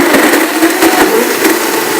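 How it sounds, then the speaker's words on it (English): A kitchen blender making a smoothie during an in-store cooking demonstration, a loud, dense whirring roar with slight pulsing chops as ingredients churn, close and continuous, with no talk over it. "Blender is no joke."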